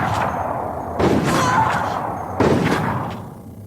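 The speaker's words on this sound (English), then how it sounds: "let's test the bolt-action rifle on a human player" Bolt-action rifle shots fired at a human player in Resident Evil: Operation Raccoon City, two loud broadband blasts about a second and a half apart, each with a booming tail over steady game ambience.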